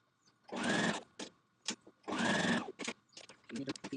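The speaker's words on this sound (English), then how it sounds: "Place my facing on the machine and I'm going to continue sewing" A domestic sewing machine stitching the facing of a Vogue Patterns dress, running in two bursts of steady whirring of about half a second each, with short taps and handling noises between them.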